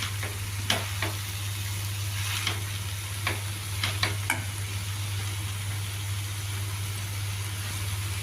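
Tomatoes and gangavalli greens sizzle steadily in a frying pan while being stirred, with a few faint scraping clicks over a constant low hum.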